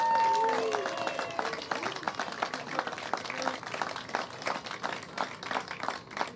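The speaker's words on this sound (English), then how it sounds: "let's give a huge round of applause to the men and women of the NYPD" Crowd applause at an outdoor National Night Out gathering at a police precinct, steady dense clapping throughout with some voices and whistles mixed in, fairly loud and continuous.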